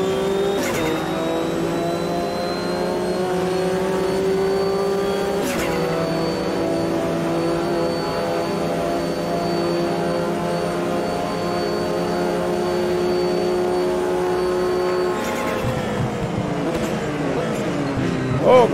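A pack of sportscars in the Automobilista 2 racing game drones loudly at a cold race start, engines holding a steady tone before a sharp upshift mid-way and another near the end, with no voices.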